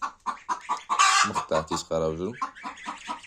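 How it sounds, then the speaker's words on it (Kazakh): Seven newly bought hens of a hardy wild-type breed cluck in quick, rhythmic bursts close by, with a brief voice speaking among them. "Осы 7 тауық алып келдік."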